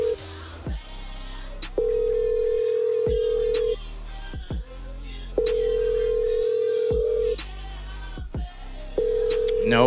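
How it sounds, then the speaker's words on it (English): An outgoing phone call rings in repeated steady tones, each lasting about two seconds with short gaps between, loud and close, with a few brief clicks between rings. "It is ringing right now."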